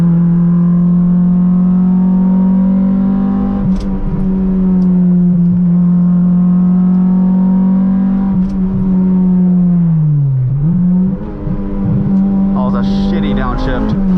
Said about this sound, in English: this exhaust is so loud, I'm like losing my hearing